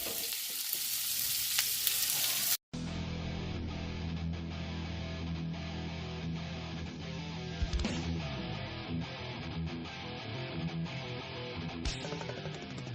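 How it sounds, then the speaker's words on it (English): Pork chops frying in a pot for championship chili, a steady crackling sizzle after a sharp cut, with occasional scrapes of stirring over the continuous hiss. "this is the pork chops. We're going to cook that up."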